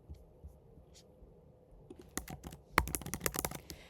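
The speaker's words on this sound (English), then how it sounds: "So we can just type that in." Keystrokes on a computer keyboard while entering code for a weather data plot, sparse at first, then a quick burst of crisp, close clicks.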